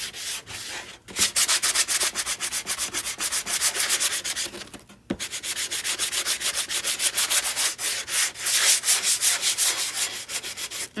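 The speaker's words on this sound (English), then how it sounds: "I'm just using the hand sander, the block." Steady back-and-forth rasping of sandpaper on a hand sanding block over wood, fast rhythmic strokes close up, pausing briefly twice before resuming.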